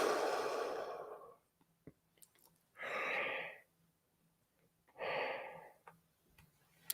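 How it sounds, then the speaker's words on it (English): Long, breathy exhalations, three drawn-out airy swells separated by quiet pauses, close and soft, with no talking. "there is the yawn that I wanted"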